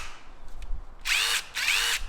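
A power drill whirs in two short bursts close by, each lasting under a second, with brief quiet between them.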